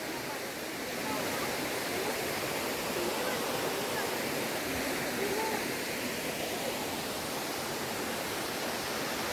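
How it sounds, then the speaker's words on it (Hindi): Seven Wells Waterfall in Langkawi, Malaysia: a steady, dense roar of falling water fills the scene, loud and unbroken throughout after a slightly quieter first second, with no voices over it. "इस वाटरफॉल का नाम दिलंग लाजू है।"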